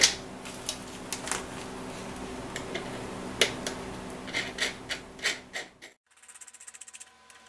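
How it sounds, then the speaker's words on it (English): Washers and nuts are threaded and tightened onto bolts while building a solar radiation shield for a weather station, giving close, faint metallic ticks, scrapes and rubbing clicks in an irregular rhythm, with a quicker ratcheting patter near the end. "Go ahead and put a washer and nut on each one of these to cinch it all down."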